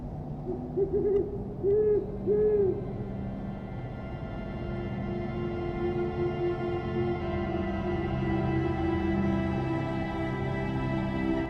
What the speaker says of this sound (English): The snowy owl, Buboscandiacus, is the ruler of the tundra skies